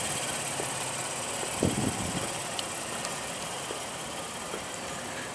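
A 2015 Acura RLX with a 3.5 L V6 idles in a low, even hum with a faint steady whine. A single soft knock comes partway through, and no one speaks.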